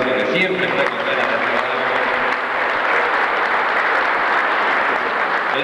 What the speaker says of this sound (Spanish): pido un fuertísimo aplauso